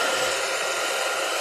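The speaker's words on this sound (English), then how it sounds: "I'm going to just hit this with a hairdryer super quick" A hair dryer blows steadily at close range, a constant loud whooshing roar with no pauses.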